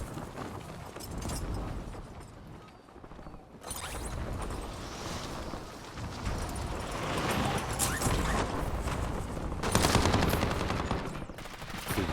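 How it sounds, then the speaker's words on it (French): Battle royale video game combat fills the clip with repeated bursts of automatic gunfire and mechanical clatter, continuous and mid-loud, with the heaviest bursts near the end. "J'ai fait des tirs."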